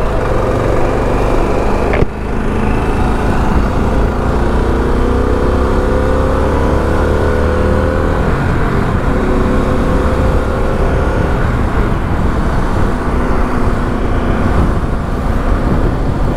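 Harley-Davidson Pan America 1250 motorcycle engine while riding, a loud steady drone with rising and falling engine tones, mixed with wind rush and a brief sharp knock early on.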